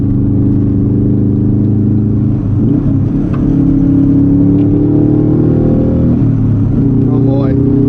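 Subaru STI V2 555 edition driving on an uphill road, a continuous engine hum from inside the cabin that climbs and shifts pitch as the car accelerates, with faint talking partly over it.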